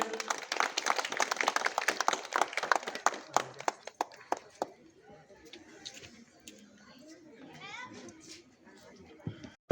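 A crowd at an outdoor winter clothing distribution event claps for several seconds, dense at first and tapering into a few scattered claps, followed by murmuring voices and children in the background.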